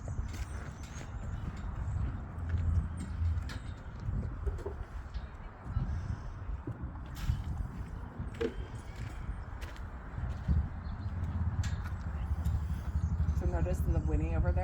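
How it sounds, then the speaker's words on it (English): A horse whinnies in a round pen with hoof clops and scuffs mixed in, over steady outdoor noise, with a voice talking at times. "So notice the whinny over there"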